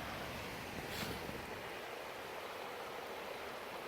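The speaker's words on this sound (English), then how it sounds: "if you hear the sound of the water, it's beautiful to meditate to moving water" Steady rushing of moving water, a constant broadband wash like a stream flowing nearby, with no voices.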